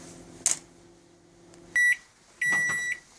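A microwave oven cooking fudge gives a low, steady hum, then a sharp click and two loud, clean electronic beeps, one short and one longer.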